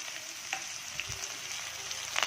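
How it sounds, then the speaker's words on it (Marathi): Finely chopped onion frying with cumin seeds in oil in a wok, a faint even sizzle with a few soft crackles and small pops. "आता आपण याच्यामध्ये बारीक चिरलेला कांदा घालणार आहोत।"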